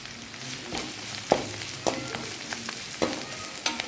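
Turmeric powder and biryani masala fry in a pan for shavige bath, a steady sizzle broken by several sharp spoon-against-pan taps at irregular intervals, with no voices.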